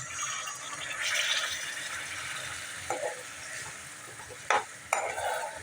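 Hot water poured into sizzling egg masala sizzles in a pan as it is stirred, with a soft bubbling hiss and a few sharp scraping clicks of a spoon.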